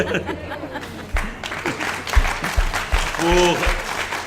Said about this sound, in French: Oui, vous pouvez les applaudir, c'est le cas d'ailleurs.